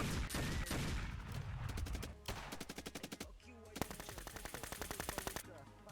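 Rapid bursts of automatic gunfire in a video game, loud and close, firing in quick repeated volleys with short pauses between them, with a faint voice underneath.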